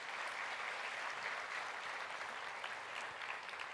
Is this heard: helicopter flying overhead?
no